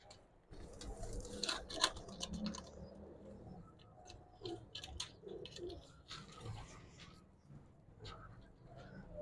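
Pigeons coo softly in an enclosed space, with scattered fluttering, shuffling and pecking sounds and a person speaking quietly now and then.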